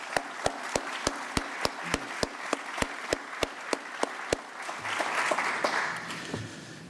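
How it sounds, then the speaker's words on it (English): Slow, evenly spaced single claps ring out in a hall at a professorship celebration, followed by a brief swell of broader crowd noise. "A round of applause."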